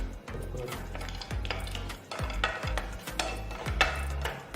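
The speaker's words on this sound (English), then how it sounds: "First I'm going to roast the cashews and raisins." Cashews roasting in ghee in a pan, heard as repeated scraping and clinking of a utensil stirring against the metal, with only a faint sizzle beneath.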